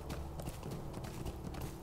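Horse hooves clip-clopping in the online game LOTRO, a steady rhythmic trot of quick hoof beats, fairly quiet and even throughout.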